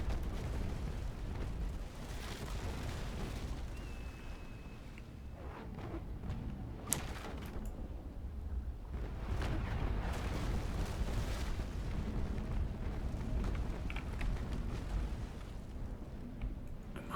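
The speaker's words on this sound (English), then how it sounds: "Taking a double broadside here." Rumbling cannon broadside fire from sailing warships in the Naval Action game, a continuous low roar with several heavy booms and bursts layered over one another, loud throughout.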